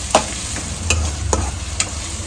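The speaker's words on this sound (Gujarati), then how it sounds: "આને ટૂંકમાં હલાવતું રહેવાનું, એટલે અંદર જે કહેવાય ને ચોટી ના જાય એટલા માટે હલાવતું રહેવાનું છે આપણે" Whole spices being stirred in a pan for dal makhani, with a steady low sizzle of frying and a few sharp scrapes and clicks of the spoon at irregular intervals.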